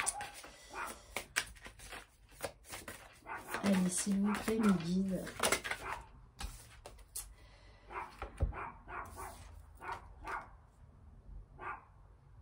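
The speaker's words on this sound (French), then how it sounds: "il y a mon chien qui refait des siennes" A pet dog whimpers and lets out short yips and barks in a room, with someone speaking French over it throughout; the whiny dog sounds cluster near the middle, partly masked by her talk.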